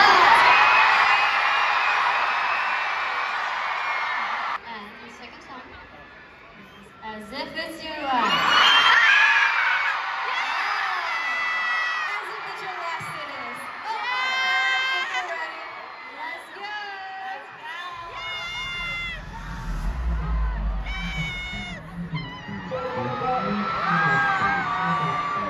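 A huge stadium concert crowd at an encore show at MetLife Stadium whoops, yells and screams in long loud swells, with amplified voices and music mixed through the roar.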